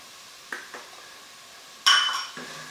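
Softened vegetables and garlic stirred in a pot while making she-crab soup: a few scattered metallic scrapes and clinks of a utensil against the pot, one louder clank near the middle, close and without talk.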